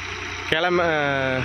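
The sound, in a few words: vehicle engine running as it turns and drives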